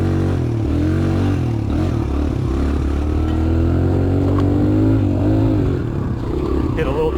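A Suzuki DR-Z125 dirt bike rides along trails, its small single-cylinder engine holding a close, steady drone with slight pitch swells as the throttle shifts, plus light clatter from the terrain.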